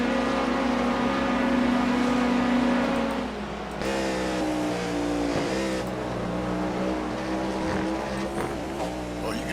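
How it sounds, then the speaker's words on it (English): A Cadillac V8 race car engine in the iRacing game, at the 24 Hours of Daytona, roars steadily close by, then drops to a lower rumbling drone with other cars' engines layered underneath. "you can hear that distinctive V8 motor"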